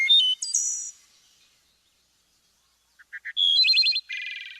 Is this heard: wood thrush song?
yes